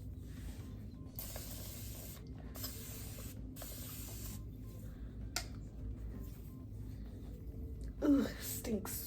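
Rice water sprayed onto hair from a pump spray bottle, a series of short, close hissing bursts with brief pauses between them, over quiet room background.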